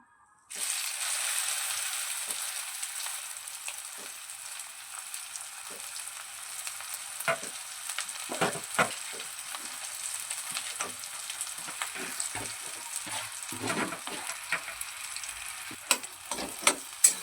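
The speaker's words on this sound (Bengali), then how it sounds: "তেলটা গরম হয়ে গেছে এবারে যে আলুটা আমরা মেখে নিয়েছিলাম ওই আলুটা তেলে দিয়ে দেব" Mashed potato drops into hot mustard oil with a sudden loud sizzle that settles into a steady fry, broken by scattered scraping knocks as it gets stirred, growing busier toward the end.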